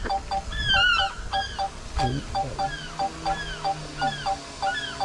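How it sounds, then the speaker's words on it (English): Gulls call repeatedly overhead, a chorus of loud, harsh squawking cries in quick succession, outdoors with no talk. "Here come the gulls again."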